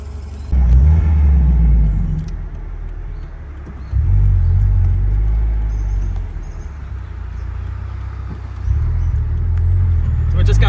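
A supercharged 2017 Subaru BRZ drives along with a low engine rumble that swells and eases in several surges, and someone talks over it at intervals.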